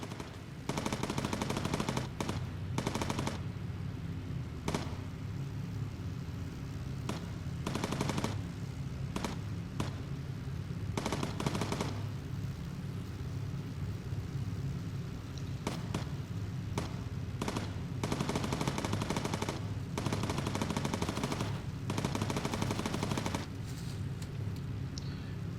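Bursts of machine-gun fire from bomber turret gunners shooting at enemy fighters in the video game Bomber Crew, rapid rattling volleys repeating over a constant low engine drone.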